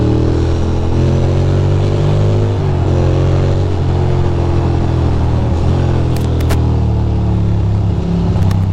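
A Ducati motorcycle cruises steadily through New Jersey, its engine a loud, continuous mid-pitched drone with slight shifts in revs and brief faint clicks near the end, no talk.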